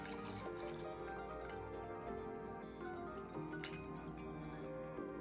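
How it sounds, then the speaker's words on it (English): A Black Magic Mule cocktail strained from a shaker into a glass of fresh ice, giving a steady trickling pour with light drips and faint clinks of ice, close by and with no talking. "We're gonna give this a nice good strain."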